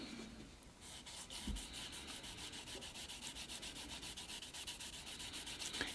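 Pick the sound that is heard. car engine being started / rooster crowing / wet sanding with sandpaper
wet sanding with sandpaper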